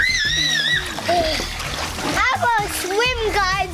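Splashing in an Orbeez pool while swimming, wet sloshing bursts mixed with excited children's voices and squeals that ride over the splatter, close and lively.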